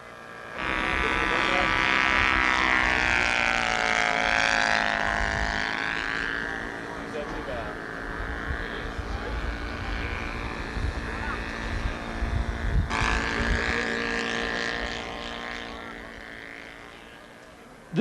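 A radio-controlled scale model aircraft built over about 1,200 hours, modeled on a Smithsonian museum plane and guided by an Airtronic radio system, flies past with a steady engine drone that rises and falls in pitch as it passes, loud and continuous.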